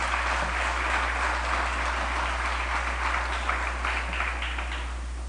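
Audience applause at a live political rally for a United National Congress candidate for San Fernando West, steady dense clapping throughout at moderate level with a low electrical hum underneath.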